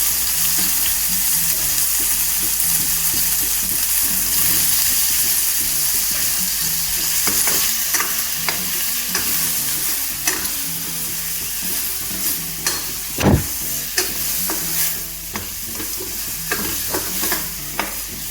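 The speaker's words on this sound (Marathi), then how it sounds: "छान खरपूस होईपर्यंत भाजून घ्यायचं." Paneer sizzles and fries in a pan with Kashmiri red chilli, turmeric and paneer masala, with loud steady frying and occasional stirring scrapes and clinks close by.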